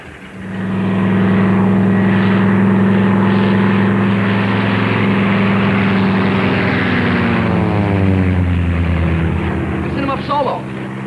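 Propeller airplane engine from the 1941 era roars loudly and steadily throughout, a droning harmonic hum that builds at the start and holds as the plane runs up for takeoff.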